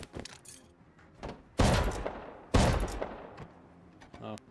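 Two heavy, booming blasts from a shotgun trap in the survival video game Rust, about a second apart, each decaying quickly, with lighter clatter and a faint voice around them.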